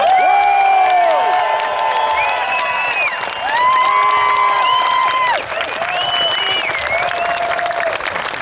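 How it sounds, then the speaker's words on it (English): A large crowd claps, cheers and whoops for David Icke, sustained loud applause with many shouting voices and high-pitched cries layered over it for the whole stretch. "we're going to give an enormous round of applause for Mr."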